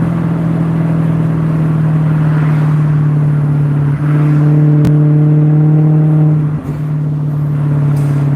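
A car engine drones at a steady low pitch, then climbs in revs for a couple of seconds before settling, loud and close.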